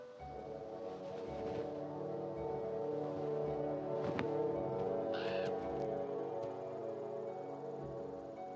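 Crows caw in the wild near a predator's young, harsh calls rising over a dense, steady bed of ambient wildlife noise, moderately distant, with no talking.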